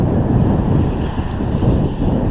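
Rolling, non-breaking waves splash against a sailboat on choppy open water, mixed with steady wind rushing across the microphone. A dense, continuous wash of sound, loud and close, with no voices.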